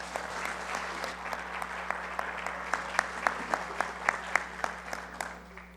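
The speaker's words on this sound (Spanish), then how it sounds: "maestra Fabiola Herrera Gutiérrez, a quien le damos un fuerte aplauso." Audience applause at a formal judicial presentation in Toluca, Mexico: a steady room-filling patter of many hands, with sharper individual claps standing out near the middle before it thins and fades at the end.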